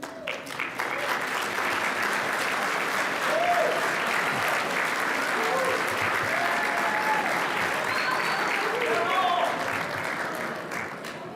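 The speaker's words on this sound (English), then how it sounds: "a resounding round of applause like that" Conference audience at an annual awards dinner applauds in a sustained, dense round of clapping that holds steady for the whole stretch, with faint voices and cheers mixed in beneath.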